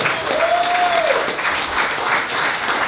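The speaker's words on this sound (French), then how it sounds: "On peut leur donner une bonne main d'applaudissement" A podcast audience gives a hearty round of applause for a sponsor, steady clapping throughout with a brief whoop near the start.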